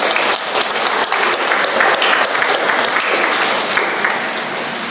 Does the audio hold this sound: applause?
yes